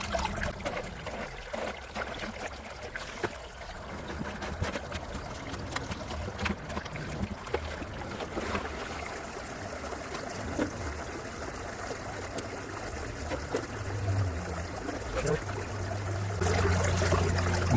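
Water trickles and flows steadily through a gold prospecting sluice outdoors, a continuous close babbling stream with light splashing that rises slightly toward the end.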